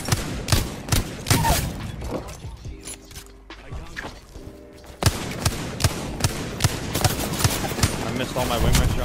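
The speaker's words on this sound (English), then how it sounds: "I missed all my wingman shots" Wingman pistol shots in the video game Apex Legends, a run of sharp, punchy reports fired in quick succession, loud and close, with a person talking over them and other game sounds in between.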